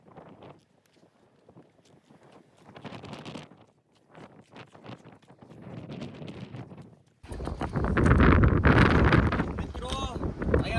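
Strong wind buffeting the microphone on the Girnar mountain peak near the Gorakhnath summit, roaring loudly in the last few seconds after quieter gusts, with someone talking throughout.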